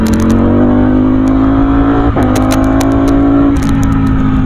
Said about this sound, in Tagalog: Nabubuhay talaga yung makina.